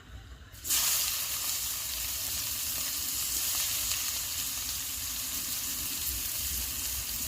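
Chopped onions hit hot oil already crackling with dried red chillies, whole garam masala and sugar, giving a sudden loud sizzle that then holds as a steady, close frying hiss for several seconds.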